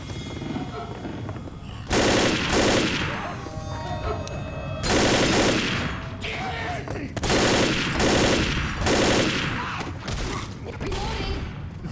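Video game gunfire in Left 4 Dead, loud bursts of automatic fire in several separate volleys with short pauses between them, close and dominant over faint background sound.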